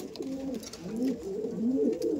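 A pigeon coos softly up close, a short run of low, rolling, throaty notes rising and falling over about two seconds, with faint background noise.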